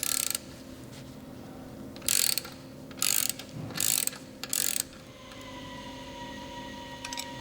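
A ratchet wrench clicks in five short bursts while removing the pad retaining strap screw from a Meritor truck brake caliper, a crisp, close ratcheting against a low workshop hum, with no talking.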